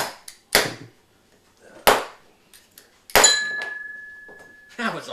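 Sharp percussive smacks from a toy Thor's hammer striking something, several separate hits spaced apart, one followed by a ringing metallic tone that sustains and fades, with brief voices between blows.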